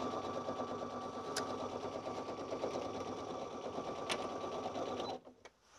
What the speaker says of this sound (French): je suis en train de coudre les côtés.